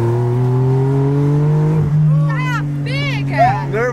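A loud Porsche sports car engine holds a steady drone, then revs up in several rising bursts, close by and powerful.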